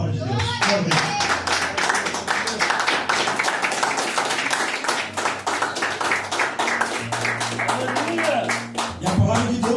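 A church congregation claps together during a sermon, a loud sustained patter of many hands with a low hum beneath and voices calling out over it.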